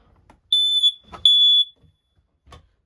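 Two loud, piercing smoke detector beeps inside a 2010 KZ Sportsmen 235 travel trailer, each about half a second long, separated by a brief pause, with faint knocks and handling noise around them.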